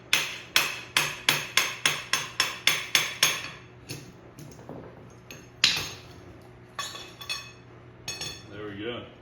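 Hammer blows driving out a part of a 1990s two-stroke engine: a rapid run of about a dozen sharp metallic strikes, then sparser, irregular taps, close and loud, with someone talking.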